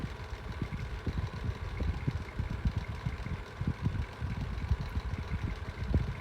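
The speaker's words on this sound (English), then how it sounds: "the micromark runs smooth, apart from it being a bit rattly" A 1980s Micromark 9 inch desk fan runs steadily and fairly quietly, with a low, loose rattling and knocking that repeats irregularly throughout.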